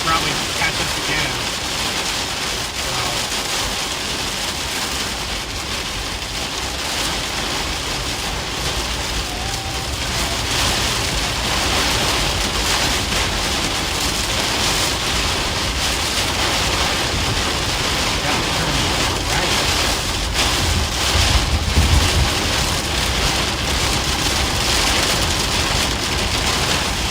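Heavy rain pounding a vehicle during an Oklahoma storm chase drive, a loud continuous roaring wash of drops on the car with road noise underneath, swelling slightly toward the end.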